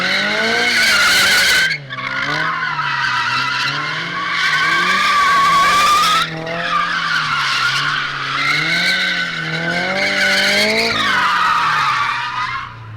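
A car drifts in long slides, its tires squealing loudly and continuously, with a wavering engine drone underneath and brief breaks in the screech as the car changes direction.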